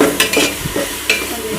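Onion, tomato and ginger-garlic paste sauté in a pan for fish biryani, with a soft sizzle and a few quick spoon scrapes and stirring knocks.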